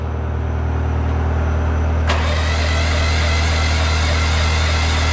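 A Chinese mini skid steer's small engine fires up with a sudden loud catch partway through, then settles into a steady, close, rumbling idle with no talk.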